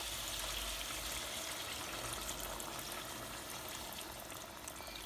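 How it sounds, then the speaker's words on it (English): Hot water poured into a pan of simmering mutton staff curry, a steady soft splashing and trickling pour that runs unbroken for several seconds with no talking. "I'm going to put some hot water in there."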